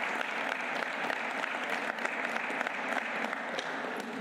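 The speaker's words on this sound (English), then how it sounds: "Can we clap for him now?" An audience applauds for the fire chief at a city inauguration ceremony in Leominster, a dense, steady clapping from many hands that carries evenly from start to finish with no talk over it.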